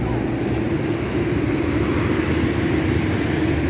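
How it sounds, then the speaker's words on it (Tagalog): Road traffic near a city in Cavite produces a dense, steady rumble of passing vehicles that stays fairly close and constant throughout. "malapit na sa city, marami na rin sasakyan."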